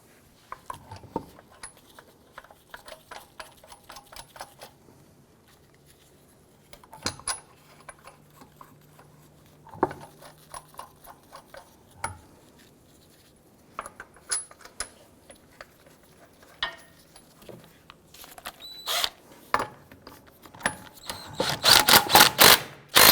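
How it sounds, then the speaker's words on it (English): Lug nuts being installed and snugged down on a 2008-2013 Infiniti G37 wheel, heard as scattered metallic clicks, clinks and rattles in short bursts, ending in a louder cluster of rapid ratcheting taps. "Install your lug nuts. Once we get all these installed, we'll go ahead and snug them down."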